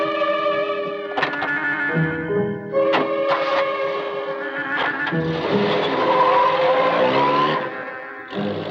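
A stolen car driven off in a 1979 Hindi comedy film scene, its engine revving with screeching tires beneath a loud, steady music score.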